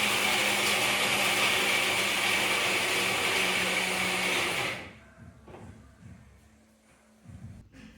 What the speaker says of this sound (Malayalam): ഇതേപോലെ മിക്സിയുടെ ജാറിലിട്ടിട്ട് നമ്മൾ നന്നായിട്ടൊന്ന് മിക്സ് ചെയ്തെടുക്കും